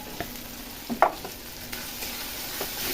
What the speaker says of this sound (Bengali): এটাকে নাড়াচাড়া করে আমি চিকেনটা দিয়ে দেবো